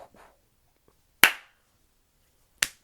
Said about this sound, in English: It's one of those songs you gotta just clap to.